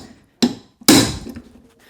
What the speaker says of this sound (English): you hit it with a hammer here